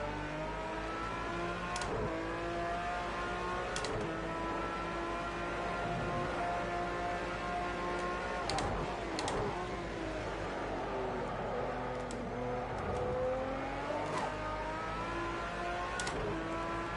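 Racing car engine at an Algarve track test, revving in steady harmonic drones with repeated short upshifts every couple of seconds, pitch dropping and climbing, loud and continuous from start to finish.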